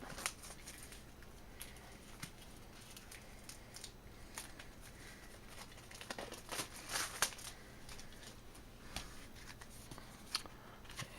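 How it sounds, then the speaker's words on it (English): Scissors cut shrink wrap off a pack of anime trading cards, giving soft crinkles and rustles with a few sharp snips and plastic crackles, faint and close, with no voices. "So let me go ahead and cut into the shrink wrap here."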